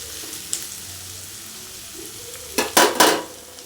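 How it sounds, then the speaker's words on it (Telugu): Vegetable rice sizzles steadily in a pan as a soft, constant frying hiss, then three quick, loud scraping stirs break in near the end. "మళ్ళీ కలిపి మధ్య మధ్యలోనే కలుపుతూనే ఉండాలండి"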